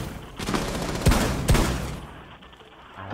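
Gunfire breaks out in Rainbow Six Siege, a loud, close burst of rapid shots with a couple of sharp cracks standing out. The shooting then fades into quieter shuffling.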